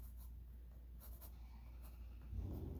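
A pencil scratches out a quick sketch on paper, producing soft, close, scratchy strokes in short bursts over a quiet room, with no talking.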